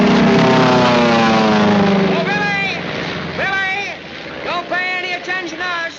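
A propeller airplane buzzes low over an airfield in a World War II air-war film. Its loud engine drone sweeps downward as it passes close, then gives way to several sharp whistling bursts.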